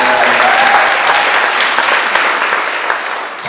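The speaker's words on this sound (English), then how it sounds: "Let's applaud them." A large crowd of parents and young people applauds loudly at a Save Our Sons event with Mayor Brown, a dense, sustained roar of clapping that slowly eases off.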